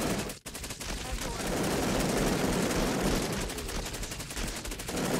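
Sustained automatic gunfire from turrets in the Cepheus Protocol game, a dense rapid rattle that holds loud and steady for about five seconds after a brief dip near the start.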